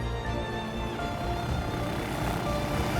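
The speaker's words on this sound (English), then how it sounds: "A helicopter takes people into Mount Aspiring National Park for hiking." Helicopter flying near Lake Wanaka in New Zealand's South Island, a steady broadband rotor and engine drone holding at an even, moderately loud level throughout with no voices.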